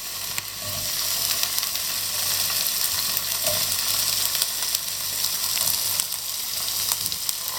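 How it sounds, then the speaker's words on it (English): Tomato and garlic fry in a pan with a loud, continuous sizzle that holds evenly throughout, over a low steady hum. "The tomato is ready, so we put the tomato in a pan"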